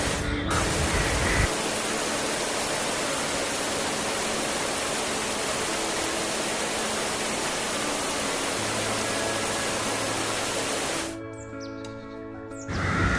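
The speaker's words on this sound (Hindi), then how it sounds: "तो आप सब देख सकते हो मेरे पीछे वाटरफॉल।" A waterfall roars as a dense, continuous wash of rushing water, loud and unbroken, easing off slightly only near the end.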